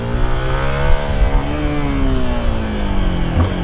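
A Honda XRE motorcycle engine revs hard while the bike is pulled into a wheelie, its steady rising and falling drone sounding loud and close for the whole stretch.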